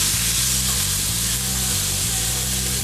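Bacon sears in a very hot pan with a loud, continuous sizzle and crackle, close and steady, over a low rhythmic hum from the stove, with no talking.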